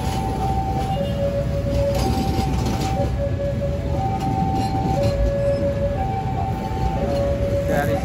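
Sancaka passenger train hauled by a CC206 locomotive passing a station crossing, with a steady loud rumble and a two-tone crossing bell ringing in an alternating rhythm throughout.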